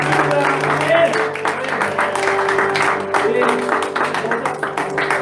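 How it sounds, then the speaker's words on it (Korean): Congregation clapping during a church worship service, a steady wash of applause that sits over sustained music tones and carries evenly for the whole stretch. "주님께 영광의 박수 부탁드립니다."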